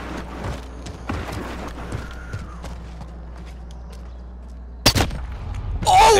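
Gunshots in Call of Duty Modern Warfare: scattered sharp reports and light footsteps at low level, then a loud close burst near the end, with muffled voices faintly in the background.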